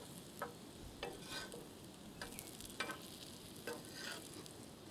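Sweet potato cutlets frying in a pan are turned over, with several soft scraping clicks and light taps over a steady, faint sizzle and no talk.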